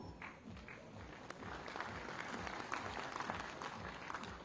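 A crowd applauds faintly and at a distance as a horticulture minister is welcomed onstage at a food-processing and agriculture industry event, a low, steady patter of clapping with scattered sharper claps.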